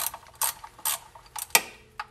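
A ratchet wrench on 10mm bolts at the oil level sensor of a Mercedes C36 AMG, several loud, close bursts of rapid clicking with short pauses between, then a sharp metallic snap, with no talking.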